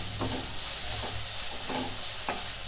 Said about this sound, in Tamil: சேர்த்துட்டு நல்லா வணக்கி விட்டுறலாம்.